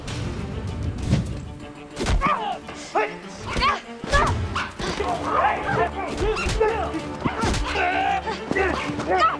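A dog barks and yips amid loud, chaotic shouting and scuffling, the barks scattered and partly buried under overlapping voices.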